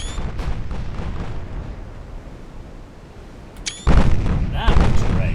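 Heavy warship guns boom in a naval battle game, a low rumbling barrage with sharp loud salvos near the end, mixed with overlapping game sounds.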